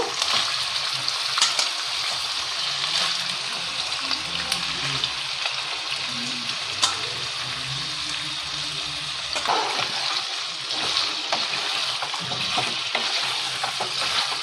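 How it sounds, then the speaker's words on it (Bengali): Drained mutton pieces frying in a small amount of oil for a Bengali mutton kosha, giving a steady, close broadband sizzle throughout with occasional stirring scrapes and no talk. "তেলের মধ্যে আমি মাংসগুলোকে দিয়ে দিচ্ছি, জল ঝরিয়ে রাখা মাংস।"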